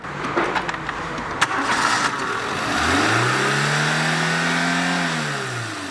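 A Renault Clio 1 with a 1.2 engine, freshly serviced in a workshop, cranks briefly after some clatter, then catches and revs up before settling into a steady, close idle hum.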